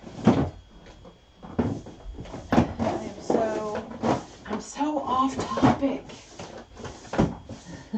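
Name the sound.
drawers and cupboards opened and closed while searching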